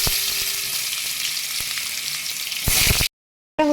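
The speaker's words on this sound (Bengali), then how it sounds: "আমি এবার আলু কয়েকটা ভেজে তুলে নেব।" Potatoes fry in hot oil with a loud, steady crackling sizzle that swells briefly near the end, then cuts to silence before resuming.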